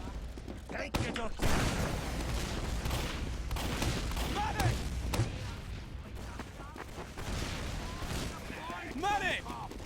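Sniper rifle shots and gunfire in a competitive Overwatch League match, with several sharp cracks scattered through the action under continuous excited commentary and game sounds.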